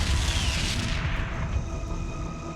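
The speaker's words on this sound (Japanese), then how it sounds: "すべて砲撃します。" Heavy cannon barrages in a Japanese-voiced mecha video game, loud and dense booms layered over one another with no speech between them.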